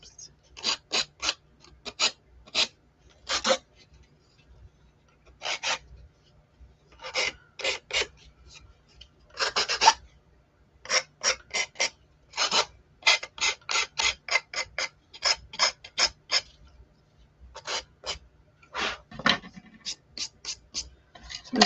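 Hand sanding of a Chalk Couture craft piece, short rasping strokes in quick bursts with irregular pauses, close and dry, with no other sound between passes.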